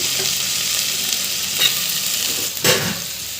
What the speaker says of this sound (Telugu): ఆనియన్స్ బాగా వేగిపోయాయి ఇప్పుడు టమాటాలు వేసుకోండి